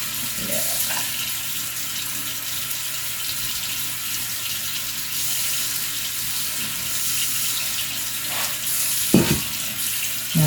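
A kitchen tap runs steadily while cucumbers are rinsed for canning, with a few clunks and splashes of handling near the end.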